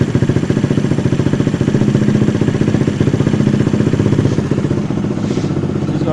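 A Honda CB110 motorcycle engine idles steadily during carburetor tuning, a close, loud, even putter with a quick regular firing rhythm and mechanical clatter, no talking.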